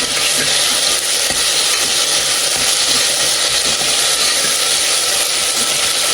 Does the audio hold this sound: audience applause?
no